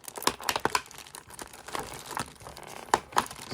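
Plastic packaging crinkles and crackles as taped Figma Link figure accessories are peeled off, irregular close crisp rustles and small sharp snaps, with no talking.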